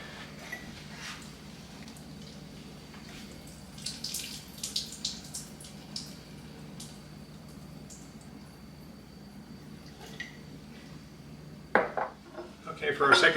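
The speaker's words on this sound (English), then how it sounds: "now we're going to strain this out in the sink" Watermelon-infused vodka being strained in a kitchen sink, soft trickling water and light clinks of jars and utensils, faint and intermittent, ending with a louder clatter.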